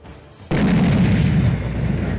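Sudden loud explosion that bursts in after a quiet lead-in and sustains as a dense, roaring rumble, close and overwhelming, with no voices.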